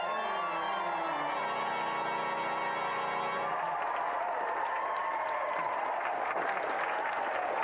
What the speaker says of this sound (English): But round of applause for Tony.